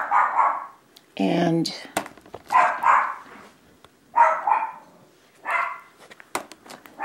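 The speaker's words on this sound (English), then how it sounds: "every time a doggy goes by, he goes berserker, you know." A small pet dog barks in short, loud bursts at other dogs passing by an open screen door, the yaps spaced through the clip as someone talks.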